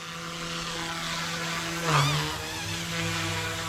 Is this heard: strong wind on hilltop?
no